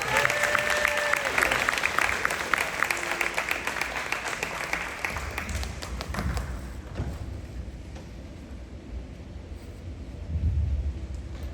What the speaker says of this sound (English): let's give Mr. Aslan a round of applause